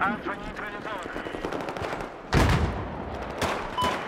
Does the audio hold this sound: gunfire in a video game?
yes